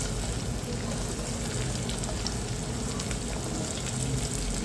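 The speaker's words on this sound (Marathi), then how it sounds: "कांदा लालसर होईपर्यंत आपण परतून घेऊ चांगल्या प्रकारे" Chopped onion fries in a pan for a hyacinth bean curry, giving a loud, continuous, even sizzle with fine crackling throughout.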